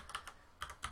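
A computer keyboard is typed on in a few quick, close, soft clicky keystrokes, heard alone within about a second.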